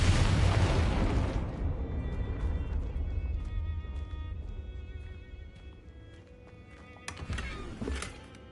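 A Confringo explosive spell goes off in Hogwarts Legacy: one loud, booming blast hits at once, then rumbles and fades over several seconds. A second, smaller burst pops near the end.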